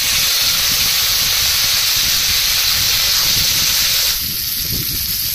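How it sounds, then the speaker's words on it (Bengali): Cut crab pieces hit hot oil flavored with lemon leaves and nigella seeds, setting off a loud, steady sizzling hiss that runs for several seconds and then dies down somewhat. "কেটে রাখা কাঁকড়াগুলো দিয়ে দেবো।"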